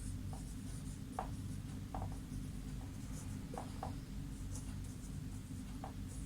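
A pen or pencil scratches across paper in short, faint strokes while a 2 by 2 matrix is written out by hand for a class 9 math lesson, quiet and close with steady background hum.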